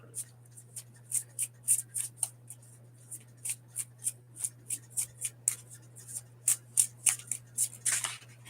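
Angel tarot cards being shuffled by hand, giving a steady run of crisp, close riffling snaps over a low constant hum.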